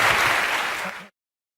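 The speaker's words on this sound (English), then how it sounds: "Al Murray, give a round of applause." Studio audience applause on a comedy panel show, a dense burst of clapping at close range that cuts off abruptly after about a second.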